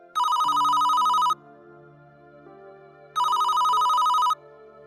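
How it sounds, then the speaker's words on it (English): A telephone ringing repeatedly, two loud electronic trilling bursts about a second each separated by a pause, with a low music bed beneath. "He rang and rang and rang, and then, at some point, the ringing stopped"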